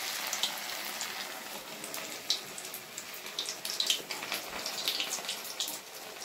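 Banana flower pakora frying in hot oil, a steady close crackling sizzle with scattered pops continuing throughout.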